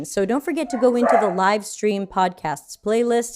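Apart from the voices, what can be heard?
dog barking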